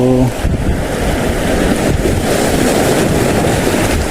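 Steady ocean surf rushes and churns up close on the coast at Real, Quezon, with heavy wind buffeting the microphone and a brief tone at the very start.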